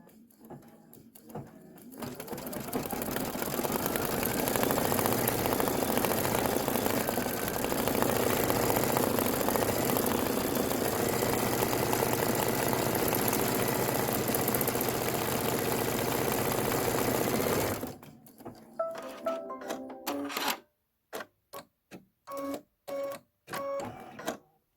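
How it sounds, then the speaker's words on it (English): Embroidery sewing machine stitching a Kimberbell Main Street Celebration design, a loud steady mechanical whirr running for about sixteen seconds, then stopping and giving way to a few short clicks and bursts. "let's go ahead and stitch that"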